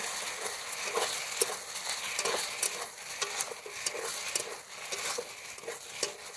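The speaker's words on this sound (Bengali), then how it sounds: "এবার দিয়ে দেবো আদা রসুন শুকনো লঙ্কা বাটা, ধনের গুঁড়ো, জিরের গুঁড়ো দিয়ে ভালো করে এটা কষিয়ে নেব" Ginger, garlic and dried red chili paste is fried with ground coriander and cumin in a pan. A continuous soft sizzle runs throughout, dotted with stirring scrapes and light metallic taps, and no one speaks.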